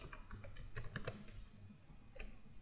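An email is typed on a computer keyboard into a registration form, giving quick soft key clicks in a short burst, a pause, then a few more taps, faint and close with no talk.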